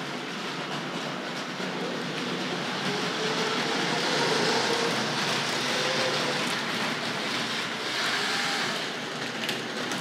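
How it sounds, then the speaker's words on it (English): A Tri-ang RS.7 diesel railcar model train rattles steadily along its track with a continuous clicking, rumbling clatter, fairly close and even in level throughout, with no talking. "let's roll this the opposite way around the railway"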